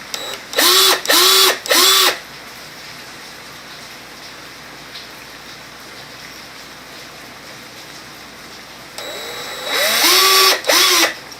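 A power drill bores pilot holes into soft MDF while subwoofers are mounted in a Ford Mustang, two loud bursts of three short whirring runs each, separated by a long quiet stretch.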